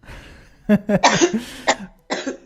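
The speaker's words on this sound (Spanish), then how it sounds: "pues ya me viene la tos otra vez." Several harsh coughs in quick succession, close and fairly loud, with a short pause before a final cough burst, during a radio program in Menorca, Spain.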